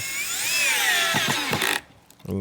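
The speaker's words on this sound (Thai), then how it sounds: "ผมจะลองเจาะไม้นะผมใช้เป็นตะปูเกลียวสีดำตัวนี้นะผม" A Masaru MSR-CD204 cordless drill set to speed 2 drives a black screw into wood. The motor whines loud and steady, its pitch rising and falling under load, then stops abruptly, followed by a brief mechanical rattle.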